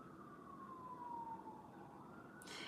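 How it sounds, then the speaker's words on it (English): A siren wails in the distance, its tone sliding slowly downward over a steady rumble of background noise, faint but continuous. "You hear the sirens?"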